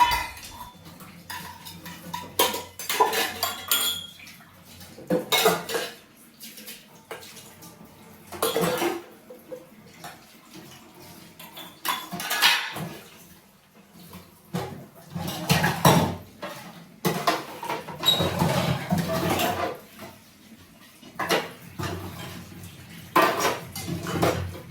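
Dishes, pots and steel utensils being washed in a home kitchen, with repeated clattering, scraping and clinking in irregular bursts, close and fairly loud, with brief pauses between.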